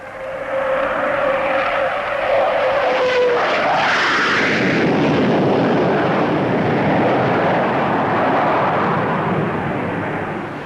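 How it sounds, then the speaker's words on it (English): A Vickers Valiant long-range high-speed RAF jet bomber passing overhead at an air display, a loud broad jet roar with a rising whine that swells and holds steady throughout, with no talk. "These long-range high-speed bombers in service with the RAF have already set a number of records."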